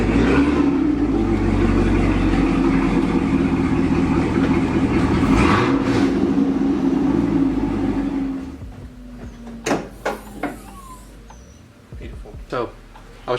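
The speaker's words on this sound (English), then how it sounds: "I had to turn the car on." A Chevrolet Camaro ZL1 engine idles with a deep, steady rumble that gradually fades, followed by a few sharp clicks and knocks in relative quiet.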